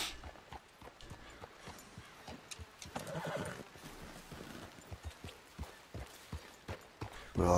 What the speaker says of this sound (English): On a horse again.